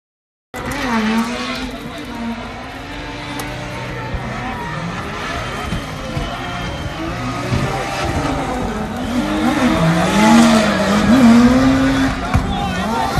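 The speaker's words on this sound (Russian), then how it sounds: "Едем второй заезд финала, сибирский финал, Гоча и Минёк 8." Drift cars in the second heat of a Siberian drift final at an RDS GP round, engines roaring steadily with wavering revs and tires squealing, loud and continuous from a distance.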